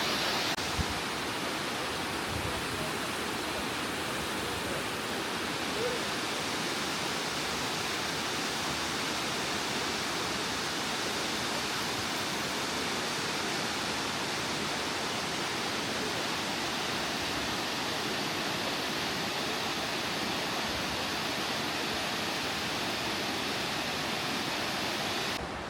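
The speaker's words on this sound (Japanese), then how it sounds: "岩の間から染み出た地下水がこの渓流に流れ落ちてます" Steady roar of a roughly 30-metre waterfall, groundwater seeping from between rocks and dropping into a mountain stream at Tokachidake Onsen in Hokkaido, a constant broadband rush with no let-up for the whole length.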